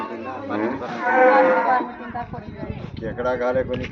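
A village cow moos once in a long, loud, drawn-out call, followed by softer rustling and muffled voices nearby.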